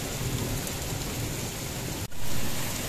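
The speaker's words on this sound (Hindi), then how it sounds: "शदीद तूफानी बारिश आ चुकी है" Heavy, steady rain pours down in a dense roar, with a low rumble of thunder rolling underneath and a brief sharp dropout near the end.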